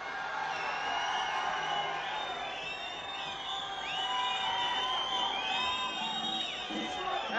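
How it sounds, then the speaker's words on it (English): A dance contest audience cheers for a competing couple, a sustained roar of shouts, whoops and high excited voices that rises and falls across the whole stretch. "You must cheer for the couples."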